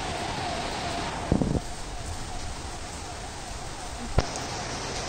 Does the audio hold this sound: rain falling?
yes